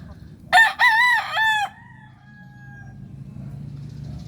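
One loud, nearby broodcock rooster crow rises in a clear cock-a-doodle-doo, then fades into quiet background murmur from the flock of broodhens.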